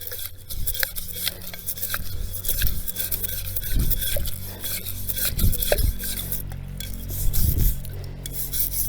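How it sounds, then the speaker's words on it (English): A wet scrub brush rasps against the outside of a clay olla in a series of irregular, close scrubbing strokes with scraping bursts. "Use the wet brush to scrub off the outside."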